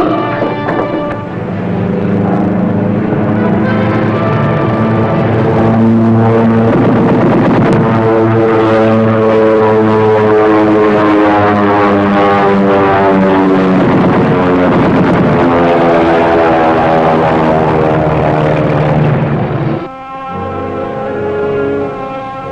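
A propeller aircraft drones overhead with a loud, sustained harmonic engine roar that swells and holds for most of the passage before cutting away to a quieter hum, heard from a submarine's deck.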